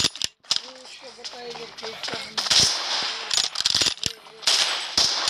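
Sharp gunshots ring out in a first-person shooter video game, firing in scattered bursts and single cracks while someone talks excitedly over the action.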